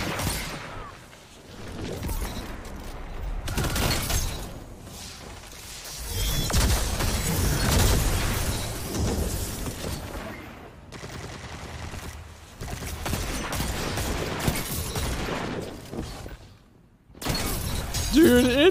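Rapid bursts of video game gunfire from a dungeon weapon, loud and dense with brief lulls, the barrage cutting out near the end before resuming.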